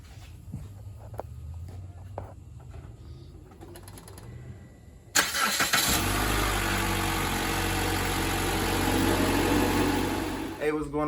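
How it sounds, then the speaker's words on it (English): A 2019 Mitsubishi Outlander cranks and fires after a spark plug replacement: quiet clicks and shuffling first, then a sudden start about halfway through that settles into a steady, close idle. "we'll go ahead and give the car a test start"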